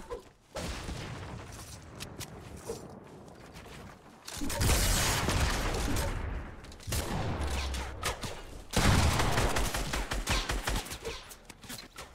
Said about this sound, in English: This guy has a minigun?